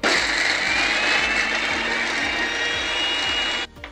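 Blender running steadily at high speed, grinding ingredients into a paste for Ramadan cooking prep, a loud continuous whirring motor whine that cuts off abruptly near the end.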